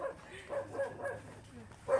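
A dog gives several short, quick barks and yips at medium distance, spaced roughly every half second, fairly quiet, with faint voices in the background.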